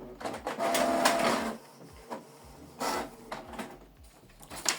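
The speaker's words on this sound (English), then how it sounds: "Now it's printing." A Canon Pixma G3590 inkjet printer prints a document, with whirring feed motor bursts and mechanical clicks in an uneven rhythm, close and fairly quiet.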